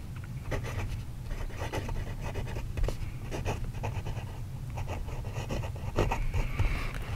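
A Pilot Varsity medium-nib fountain pen scratches across paper in a steady run of short strokes, close and fairly quiet over a low background hum.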